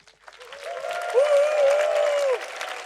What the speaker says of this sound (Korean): 멋진 무대를 선사해준 우리 바이킹 생도 여러분들께 다시 한번 큰 박수 부탁드립니다